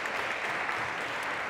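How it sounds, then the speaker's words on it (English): Sustained crowd applause from a conference audience for the speakers, a steady dense clatter of clapping filling the whole stretch with no voices over it. "I want to give a round of applause to our amazing"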